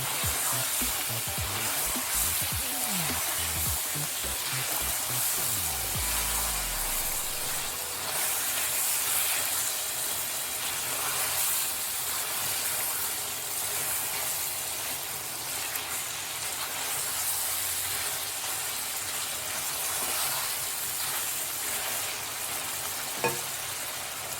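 Chicken shorba masala with red chili powder sizzles and crackles in a hot pan, a continuous frying hiss, with some stirring at the start and a sharp clink near the end.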